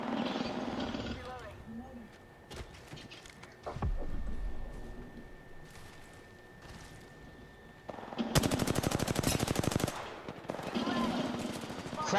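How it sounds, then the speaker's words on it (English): Bursts of automatic gunfire rattle in the battle royale shooter Apex Legends, with a long loud rapid-fire stretch near the end among scattered shots, while a player talks over the action. "I'm getting shot from behind."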